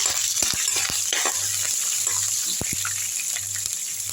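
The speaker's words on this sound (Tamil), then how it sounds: "எண்ணெயில் பச்சை மிளகா போட்டுக்கங்க நல்லா வதங்கட்டும்" Green chillies fry in oil in a pan, giving a continuous soft sizzle with low rhythmic stirring scrapes and occasional clicks. The sound is close, and no one speaks.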